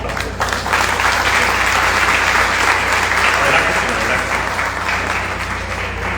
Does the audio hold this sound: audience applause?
yes